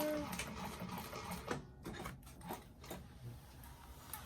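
A sewing machine back stitches on a handmade bag, a short burst of fast rhythmic mechanical ticking, fairly soft and close, with a voice talking over it.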